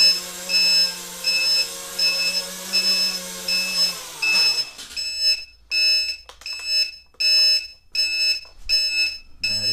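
A timer beeps in short, even, repeated high pulses to mark the end of an Eachine Falcon 180 racing drone flight in a junk-yard garage, starting over a low hum and then sounding alone, loud and close.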